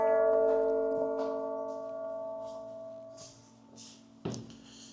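A clock bell in Lincoln chimes one o'clock with a few moderate strikes that ring on in a long, fading hum, heard alone in the open.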